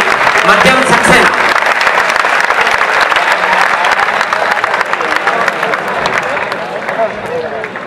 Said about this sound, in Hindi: एक बार जोरदार तालियां बजाकर उनको बुलाइए